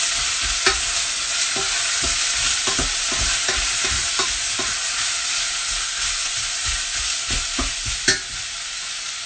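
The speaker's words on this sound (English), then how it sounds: "give that a stir around" Beef mince and onions sizzling in a pan for an Australian meat pie filling, stirred with repeated close spoon scrapes and taps over a constant loud frying hiss, no talking.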